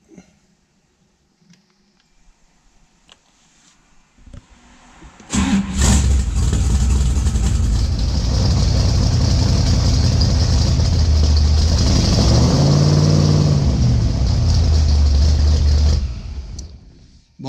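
After a quiet stretch of faint clicks, a car engine with a freshly replaced voltage regulator in its alternator cranks and fires, then settles into a loud, steady idle with a brief rev in the middle before cutting off.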